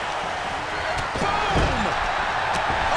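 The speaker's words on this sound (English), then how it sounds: "Light plus slam." A wrestler slams an opponent onto the mat during an eight-man battle royal in WWE 2K23, a heavy thud rising over steady arena crowd noise, with a few softer impacts around it.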